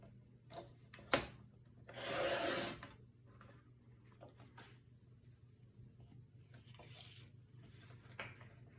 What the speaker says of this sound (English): So we're going to cut this and then we'll trim it down.